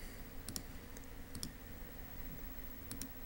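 A computer mouse clicks up close, three quick double clicks spaced a second or so apart over a steady low room hum, with no voices.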